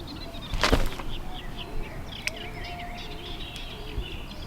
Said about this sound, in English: Playing fetch with seagulls.